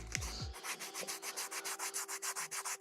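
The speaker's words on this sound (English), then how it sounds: "So it looks like Harry's sanding the rudder" Hand sanding on a 3D-printed RC airplane rudder gives a steady rhythmic rasp, with regular back-and-forth strokes of about five or six per second, close and clear, after a brief knock at the start.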